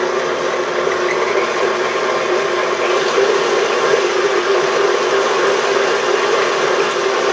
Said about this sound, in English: Then I just give it a little quick mix.